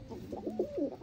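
Soft coos from a red Dobaz pigeon held in the hand, a few rounded throaty notes in quick succession, close by and fairly quiet.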